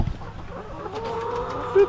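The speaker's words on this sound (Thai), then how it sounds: "นี่ นะ ไก่ของเฮา" Farm chickens clucking close by in the early morning around the coop, with short bird calls over faint background noise and no talking.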